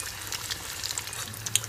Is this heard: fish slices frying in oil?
yes